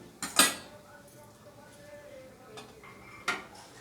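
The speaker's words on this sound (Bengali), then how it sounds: "এবার ঢাকা দিয়ে দেবো" A metal lid clatters onto a pot of chicken soup after a spoonful of butter goes in, a pair of close, sharp clinks followed later by two lighter taps, with quiet kitchen background between.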